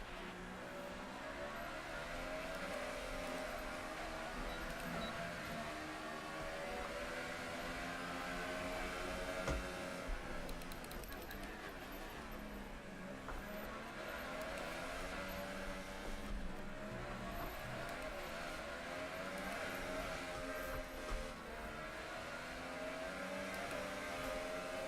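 Race car engine in F1 2018 racing game, droning steadily with rising and falling revs and quick upshifts, heard alone without any talking for the whole stretch.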